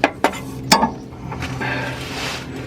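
Wrench working on a brake line of a Dodge Dakota, giving a few sharp metallic clicks and ratcheting taps close by early on, followed by faint rustling handling noise.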